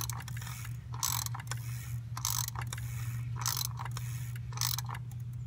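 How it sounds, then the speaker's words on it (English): A 36 mm socket ratchet snugs down the oil filter housing on a Ford Super Duty pickup, giving short bursts of rapid clicking about once a second over a steady low hum. "And then grab your 36 millimeter and snug it up past the O-ring."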